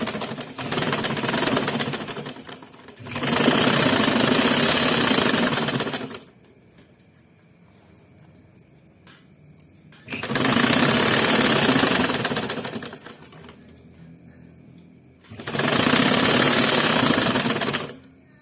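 Electric sewing machine stitching the slit of a pencil skirt, running in three loud, steady whirring bursts of a few seconds each, separated by quieter pauses where fabric is adjusted.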